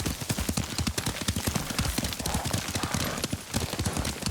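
Horse hooves clip-clop at a steady gallop while riding in the samurai video game Ghost of Tsushima, a dense run of rhythmic thuds that carries on for the whole stretch, with a brief snort or whinny mixed in.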